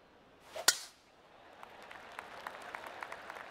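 A sharp crack opens a moment of spectator clapping in the golf game PGA 2K23, followed by faint, scattered claps fading into the background.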